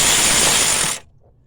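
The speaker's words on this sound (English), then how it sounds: "Use the old cordless ratchet." Cordless ratchet whirring steadily close up while turning a bolt on the engine mount of a 2013 Dodge Dart SXT, a loud continuous buzzing burst lasting about a second before cutting off abruptly into near silence.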